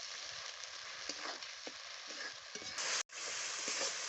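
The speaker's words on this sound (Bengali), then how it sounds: "এবারে আমি মশলা কষিয়ে নেব" Spice paste with onion paste frying in a pan for an egg and pea curry, giving a steady close sizzle with occasional stirring scrapes and a brief break near the end.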